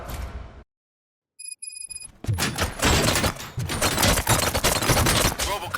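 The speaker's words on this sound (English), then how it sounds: "Gunshots? What's going on?" Gunfire in the video game RoboCop Rogue City erupts after a brief silence as a dense, loud volley of rapid shots, machine-gun-like bursts with crashing impacts.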